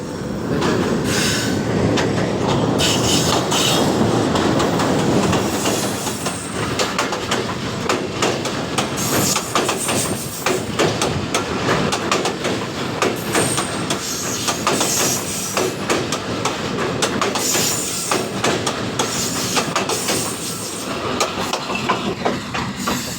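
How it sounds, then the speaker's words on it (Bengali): A train passes close by on a railway line near Shafipur and Ratanpur in Gazipur: a loud, sustained rumble with rhythmic wheel clatter and some squealing, fading slightly toward the end, with no voices. "এই যে একটা ট্রেন আসতেছে দেখবো আমরা এই ট্রেনটা কীভাবে চলাফেরা করে"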